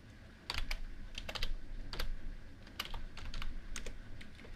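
Someone types lyrics on a computer keyboard while writing a Halloween song for Suno AI: soft, irregular clusters of close keystrokes over a quiet room.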